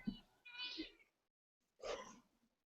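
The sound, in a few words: cat meowing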